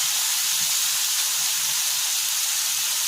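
Liver stir fry frying in a pan, Chinese style, gives a steady, loud, even sizzling hiss that runs the whole time without a break and with no voices.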